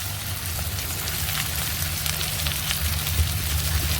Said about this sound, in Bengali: আদা রসুনটা আর একটু ভেজে নেব।